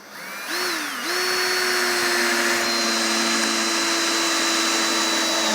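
Ryobi ONE+ HP 18V brushless compact impact driver sinking a 3-inch T25 screw, a rising whine that settles into a steady, loud motor drone and holds for several seconds, alone and without talk.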